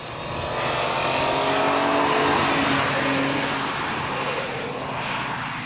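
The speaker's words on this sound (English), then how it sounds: "the M3 GT2, a 375 kilowatt monster that made its debut in this year's Le Mans 24-hour" BMW M3 GT2 race car, a 375 kW Le Mans machine, roaring past loudly with a sustained high-revving engine note that swells and fades, no talk.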